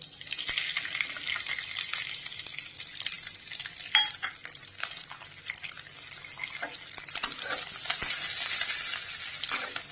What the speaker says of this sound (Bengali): এবার এর মধ্যে দিয়ে দেব একটু জিরে ফোড়ন, 2টো শুকনো লঙ্কা আর 2টো তেজপাতা, আর বেশ কিছুটা পরিমাণ গোটা রসুন